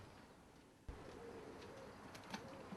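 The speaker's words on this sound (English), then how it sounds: "These are ice pigeons." Ice pigeons in a loft section cooing softly, low murmuring calls against quiet room noise, with a faint bump and a few brief sharper chirps near the end.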